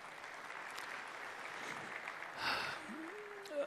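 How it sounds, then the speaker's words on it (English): Applause fills the room for a group of U16 football players at a coaching session, a steady clatter of clapping from the crowd that swells briefly near the end. "big round of applause for these guys back here."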